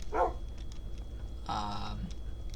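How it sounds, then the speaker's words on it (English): A dog gives a sharp bark near the start, then a second, longer bark or yelp follows about a second later, indoors at moderate distance with a quiet room hum between them. "I guess we can put away the other two dogs that are here"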